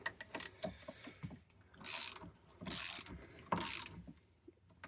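A fitting being tightened on the brake hydraulics of a 1961 Triumph TR3A, with close ratcheting clicks and longer grinding turns in uneven strokes, fairly quiet and with no talk.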